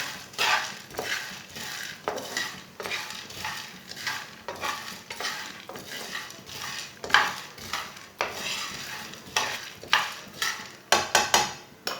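Chickpeas roasting over a low flame, stirred continuously in a pan with a spoon scraping and clattering, soft rattles and faint sizzle repeating in an uneven rhythm, no voices.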